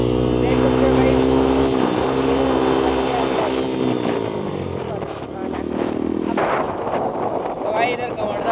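A motorbike rides along a road while its engine drones loudly and steadily throughout, its pitch shifting as it changes speed, with rushing wind noise over it.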